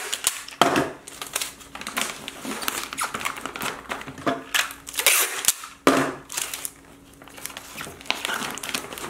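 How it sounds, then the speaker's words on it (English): Packing tape is pulled and pressed onto a cardboard shipping box in repeated sharp rips and crinkling pats, close and fairly loud, with short pauses between strips. "And then I like to tape all of this too"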